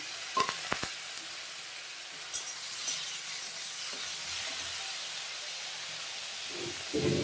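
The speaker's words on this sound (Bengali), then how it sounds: "আমি পেঁয়াজ বাটাটা অ্যাড করে দিলাম রসুন বাটাটা আদা বাটাটা একসঙ্গে আমি দিয়ে দিলাম আর টমেটোটা অ্যাড করে দিলাম" Onion, garlic and ginger paste with tomato sizzle in a hot pan, a soft, steady frying hiss broken by a few faint clicks and stirring knocks, with no talking.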